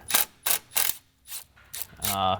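Ratchet wrench working a 10mm nut on a car's power steering line during BMW N55 engine work, with several short bursts of rapid clicking separated by pauses, close and clear.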